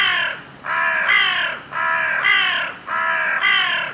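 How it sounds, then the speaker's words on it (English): A crow calls in a series of loud, harsh caws, grouped in pairs with short gaps between, close and clear with no other sounds. "Let's listen to the sound of a crow."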